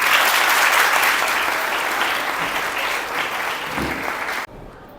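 Audience applause at a school traffic awareness seminar, a dense, loud burst of clapping from a room full of people that holds steady for several seconds and then stops abruptly.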